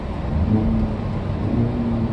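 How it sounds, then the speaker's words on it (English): A 2019 Hyundai Veloster N Edition engine revs with a steady low drone and a mild rise in pitch, heard from inside the car with no talking. "Try revving the engine and see if the turbo PSI goes up."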